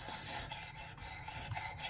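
A knife blade, the PL-XE, is rasped across the finest-grit sharpening stone in steady repeated back-and-forth strokes, close and fairly quiet, with no talking.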